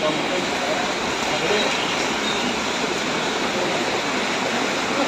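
Heavy rain pouring down in darkness where parathas are sold, a dense, constant hiss of water drumming on surfaces that fills the whole scene without letting up.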